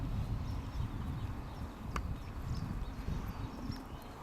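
Steady pony hooves clop over a rough, noisy outdoor background, an even walking rhythm that stays fairly constant throughout.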